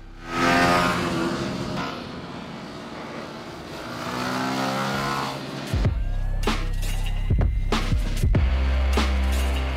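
A 2023 Yamaha YZF-R125 125cc sport motorcycle ridden off near Barcelona: an idling engine gives way to loud revving and accelerating, with a rising whine and sharp gear-change dips as the bike pulls away close by.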